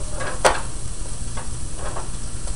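Sausage browning in a pan gives a steady, close sizzle and frying hiss with a few brief louder crackles, no talking.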